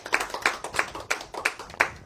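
Audience clapping for the event staff at an evening Healthline presentation, heard as about six distinct, fairly evenly spaced claps that sound like only a few hands, close and moderately loud.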